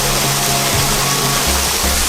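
Small waterfall on a hiking trail at Halton Hills conservation area, reduced to a thin flow over a rock face, giving a loud, close, continuous rushing hiss with a low rumble underneath.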